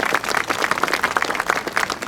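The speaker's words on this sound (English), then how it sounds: "Let's give them a round of applause." An audience applauds a pipe band at a Scottish Norwegian celebration, dense, steady clapping from many hands, close and fairly loud, with no speech over it.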